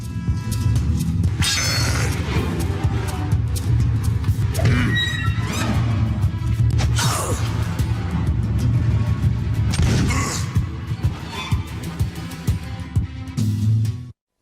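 Loud game combat effects, booms, crashes, metallic clanks and whooshes, layered over a steady musical bed, dense and continuous until an abrupt stop.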